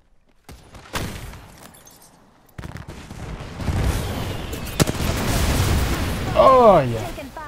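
Apex Legends gunfire: scattered shots and heavy bangs build into a dense, loud barrage of bursts and rumbling blasts, with a brief warbling in-game voice near the end.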